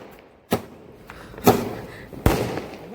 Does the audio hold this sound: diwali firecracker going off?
yes